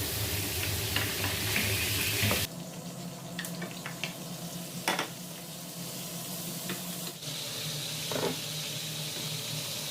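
Fish sizzles and crackles in hot oil, with a louder hiss at first, then steadier frying broken by a few sharp pops.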